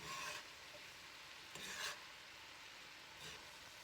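Cabbage and black-eyed peas being stirred in a pot, faint soft scraping strokes in three short bursts over a quiet low simmering hiss.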